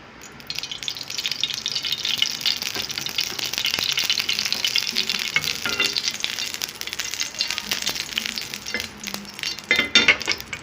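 Oil sizzles and spits in a pan for an egg sandwich, a continuous bright crackle that rises and falls, with occasional light clinks of a utensil against the pan.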